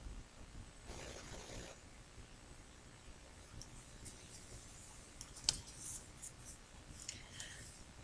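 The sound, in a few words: scissors trimming paper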